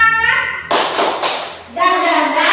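Children at an Indonesian elementary school perform a rhythmic spirit clap, loud close claps in quick bursts, with the children's chanting voices before and after.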